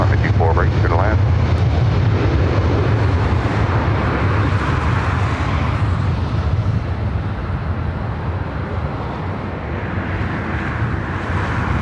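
Embraer jet landing on LAX runway 24 right, a loud roar of engines and rushing air that is strongest early and gradually eases over the span, under a voice speaking.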